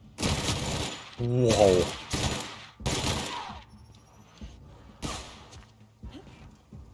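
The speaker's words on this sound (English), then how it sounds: "ammo goes through this gun real quick" Bursts of rapid gunfire from a weapon in the video game The Outer Worlds, several loud volleys separated by short pauses, with a voice reacting briefly amid the shots.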